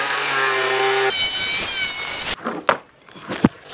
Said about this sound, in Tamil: இப்போ நம்ம மார்க் பண்ணது போக பேலன்ஸ் இருக்கக்கூடிய எல்லாத்தையும் வந்து கட் பண்ணி எடுத்துடலாம்.